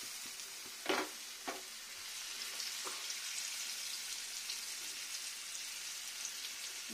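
Khoshla bora fritter batter frying in oil in a tilted pan, a soft continuous sizzle with a few sharp spatters near the start, quiet and close, no talking.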